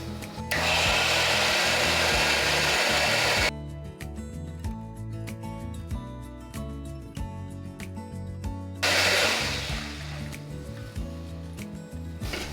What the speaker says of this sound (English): And that's all going in the blender.